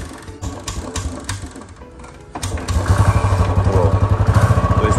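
A Thar's engine cranks with uneven clatter, then catches and settles into a loud, steady, fast-pulsing idle close to the microphone.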